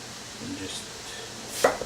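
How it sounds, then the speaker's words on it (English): Knife coarsely chopping onions on a cutting board, a few soft cuts followed by one sharper, louder chop near the end. "we're just going to do a coarse cut on the onions"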